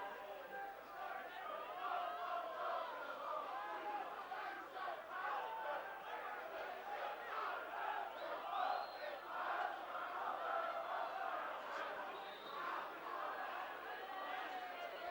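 Chester football supporters at a December 2005 home match against Nottingham Forest chant steadily in the stadium, a dense roar of massed voices with rhythmic clapping pulses, held at an even, moderately distant level throughout.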